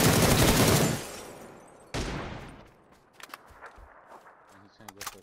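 Loud, close bursts of automatic gunfire in PUBG, a long rattling volley followed by a second burst that fades, then scattered clicks and footsteps, with voices talking briefly.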